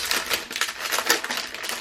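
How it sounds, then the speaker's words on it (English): Plastic packaging for a diamond painting kit rustles and crinkles in a quick, continuous run of close, dry crackles, with no one speaking. "excuse the rustling"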